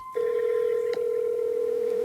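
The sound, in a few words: phone call dialing Verizon customer service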